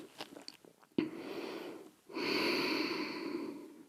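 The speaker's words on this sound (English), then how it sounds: "And breathe." Slow, steady breaths during a yoga meditation session: a short sniff-like intake, then a long broad exhale held for about a second, followed by another long breath, close and soft with no talking.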